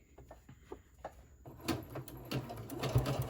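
A sewing machine zigzag stitching raw fabric edges nearby, starting with a few scattered clicks and then running in a steady, rapid whir; no talking.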